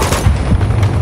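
Rapid automatic gunfire from a machine gun in the video game Uncharted 2, a loud dense burst of overlapping shots running through the whole moment with no talk.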